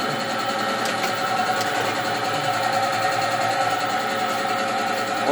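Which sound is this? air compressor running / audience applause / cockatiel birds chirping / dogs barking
air compressor running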